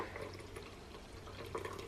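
Frothed milk pours from a Nespresso Aeroccino 3 frother jug into a small recipe mug, a soft steady liquid trickle and splash running the whole time at low level with no talking.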